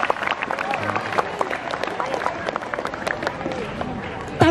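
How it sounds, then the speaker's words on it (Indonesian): A crowd applauds children at a Heroes' Day ceremony and school-visit welcome event, steady scattered clapping running throughout at moderate loudness, with a brief louder burst at the very end. "Tepuk tangan buat adik-adik semua."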